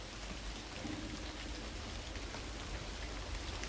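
Steady rain falls in a continuous, even hiss of drops on surfaces, unbroken throughout and fairly loud, with no voices or other sounds standing out.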